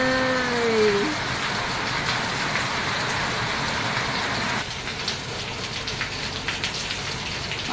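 Steady rain pours in front of a house onto plants and trees, a dense, even hiss of drops close by that carries on throughout, with a faint tonal sound at the very start.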